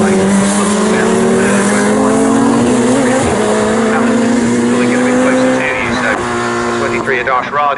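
Radical SR1 race cars at Snetterton circuit roar past with steady high engine whine and shifting pitch, a race commentator talking continuously over the loud track noise.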